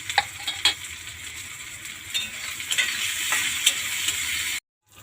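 Onions fry in hot oil in a pan for a fish-paste dish, giving a steady close crackling sizzle with scattered pops and a few utensil ticks. It cuts off abruptly near the end.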